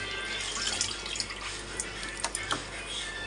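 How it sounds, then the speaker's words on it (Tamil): Tap water runs at full flow as raw chicken is rinsed, a faint, steady splashing hiss with several brief, sharper splashes and clatters as the pieces are moved around. "தண்ணி ஃபுல்லாக திறந்து விட்டுறணும்"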